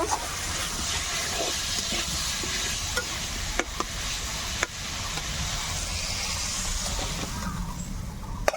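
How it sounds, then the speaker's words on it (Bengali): Ridge gourd and potato fry in a pan with a soft, continuous sizzle and hiss, broken by a few light stirring clinks, fairly quiet and with no voices. "আমি ঝিকা আর আলুটা ভালোভাবে ভেজে নেব"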